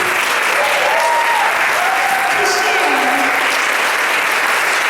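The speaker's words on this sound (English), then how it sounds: "give a huge round of applause for this woman" Loud, sustained applause from a large crowd fills the whole clip, with a voice speaking faintly underneath.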